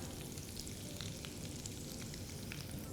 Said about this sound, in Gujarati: કઢી પત્તા નાખશું.